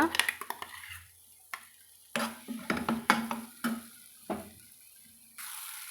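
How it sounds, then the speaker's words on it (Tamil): Pirandai (adamant creeper) sautéed in oil in a pan gives a soft sizzle broken by repeated sharp scrapes and clinks of a spoon stirring against the metal, close and fairly quiet. "இது போல் நல்லா ஒரு ரெண்டு நிமிஷத்துக்கு நம்ம சுருளை வர்ற மாதிரி வதக்கி எடுத்துக்கலாங்க"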